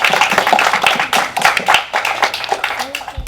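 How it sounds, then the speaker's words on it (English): A crowd at a Rotary Club RotaKids event at Spring Creek Elementary school claps in a brisk, dense round of applause, close and steady before tapering off. "Let's give them a round of applause."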